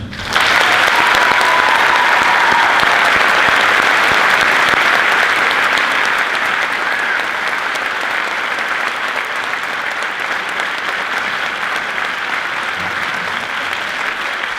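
Sustained, loud applause from an audience at a high school choir senior awards presentation, steady for about fourteen seconds and easing slightly toward the end.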